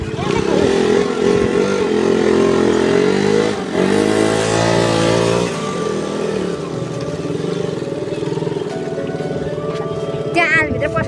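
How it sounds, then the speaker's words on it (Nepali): A motorbike draws near along a rural road, its engine note rising and swelling over several seconds, loud and close, with continuous music-like tones and voices talking over it. "बाइक आउँदैछ"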